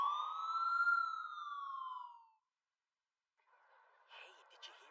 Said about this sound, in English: Kinda early to hear sirens like that.